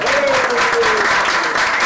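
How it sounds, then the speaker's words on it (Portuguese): An audience at a Christmas celebration bursts into loud, continuous applause that fills the room, with a voice faintly audible over the clapping. "Isso merece o quê? O aplauso!"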